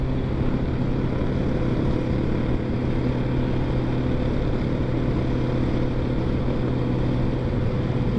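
A convoy of motorcycles pulls away from a motorcycle club anniversary gathering, their engines blending into a loud, continuous low drone that holds steady throughout with no voices.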